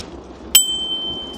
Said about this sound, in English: I'm gonna have to invest in a bell now